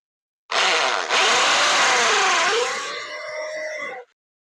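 An electric drill bores a hole into a plastic part, giving one loud, continuous high whine lasting about three and a half seconds. The pitch sags and wavers as the bit bites, then eases off before stopping abruptly.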